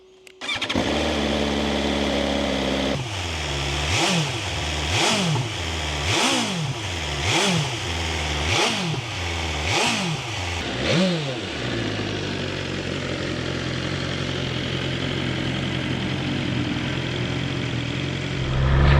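A 2024 BMW S1000XR sport motorcycle with stock exhaust cranks and fires, then revs sharply about eight times in quick succession before settling into a steady, loud idle close by.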